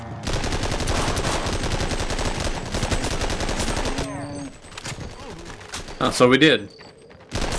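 Tommy gun fire in the video game They Hunger, a dense burst of rapid automatic shots over the first four seconds, loud and close, followed by scattered sounds while people talk briefly.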